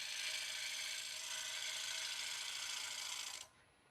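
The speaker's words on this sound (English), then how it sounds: "clean up a little bit with a shear cut. I'm just using the side of the gouge here." A gouge's side makes a shear cut on spinning wood on a lathe, giving a steady, bright, hissing scrape up close that stops abruptly near the end.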